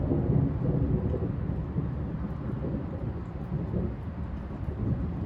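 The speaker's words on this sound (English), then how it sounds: "You can hear some thunder rolling off in the distance." Thunder rolls low and steady in the distance during a storm in Phoenix, Arizona, a continuous deep rumble with soft rain and wind noise and no one talking.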